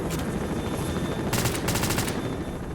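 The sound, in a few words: helicopter in S.T.A.L.K.E.R. video game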